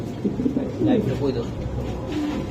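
Pigeons coo in a bird market where Mundian, racer and other pigeon breeds are sold with eggs and chicks, the soft repeated coos mixed with nearby chatter and people talking throughout.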